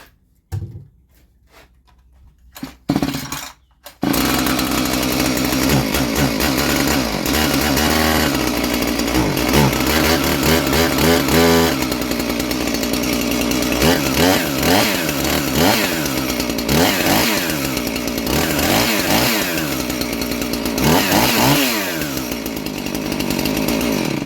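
A Husqvarna 450 chainsaw being brought back to life after repairs. A few sharp pull-start tugs and brief sputters give way to the engine catching and running loud and close, revving up and down with a rasping, buzzing two-stroke snarl.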